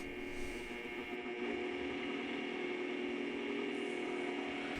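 A Bridgeport mill 6F power feed running smoothly after a gear repair, a faint, steady mechanical hum and whir with no talking.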